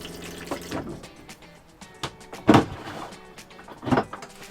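Antifreeze and water flushing through the toilet valve of a Roadtrek Pivot camper van during winterizing: a few short, close splashing gushes, with quieter rustling and handling noises between them.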